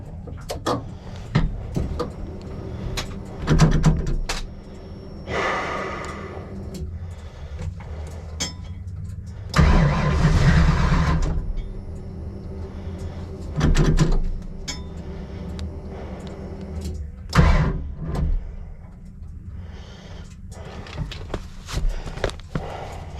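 A car engine idling with a suspected collapsed lifter outside an auto parts store, giving an uneven running noise with irregular knocks and bursts, plus intermittent clatter and thumps.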